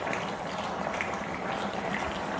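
A Bengali fish curry with cauliflower, fish pieces and slit green chillies simmering in a pan, giving a steady, continuous close bubbling and hissing that runs without a break and with no talk.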